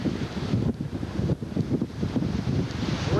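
Strong wind blows outdoors on Alaska's Kenai Peninsula, buffeting the microphone with a loud, continuous low roar and gusty rumble, with no voices.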